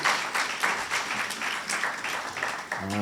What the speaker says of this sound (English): Could we have a round of applause for Ms. Harris Roper?